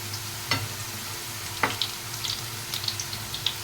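Potato and onion snack frying in oil, with a steady low sizzle and a couple of sharper crackles and spatters rising above it.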